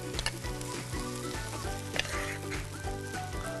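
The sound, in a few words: spinach puree added to sautéed onion, sizzling in pan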